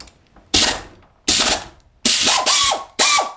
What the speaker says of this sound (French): Le tournevis, c'est vraiment pas puissant.